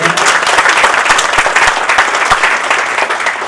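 Sustained applause from an audience at a Hindi poetry recital during a music evening, a dense steady clatter of many hands at close range lasting throughout with no talk over it.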